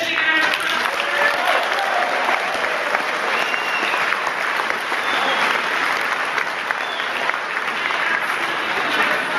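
A large audience at the TARC 2010 student briefing breaks into loud, dense applause that holds steady and continuous for the whole stretch, with no break in the clapping.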